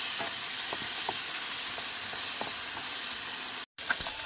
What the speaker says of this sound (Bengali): টমেটো দিয়ে একসাথে ভাজা